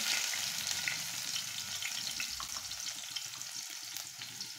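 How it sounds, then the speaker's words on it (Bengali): Chopped onion frying in a pan for a potato and pointed gourd bhaji, a dense, steady close sizzle with faint stirring and no talking. "পেঁয়াজ কেটে দিয়ে দিচ্ছে"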